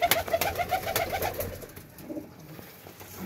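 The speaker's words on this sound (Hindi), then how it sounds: "ये हमारा चिपड़ा कबूतर बैठा हुआ है।" Pet pigeons, a chipda pigeon among them, coo in a steady series of soft repeated calls close by, strongest at the start and thinning out toward the end.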